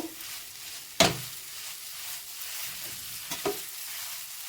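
Semolina roasting in a pan for jackfruit laddu, stirred now and then: a soft, steady sizzle broken by one sharp spoon scrape near the start and a couple of lighter scrapes later.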